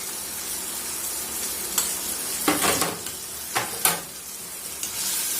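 Potato pieces fry in a pan with turmeric and salt for a drumstick curry, sizzling continuously up close while a spatula stirs and scrapes in several bursts, with no talking.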